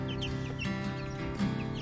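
Young 42-day-old chicks let out of a brooder, giving rapid high peeps and soft clucks in a continuous close chorus, with a low steady hum underneath.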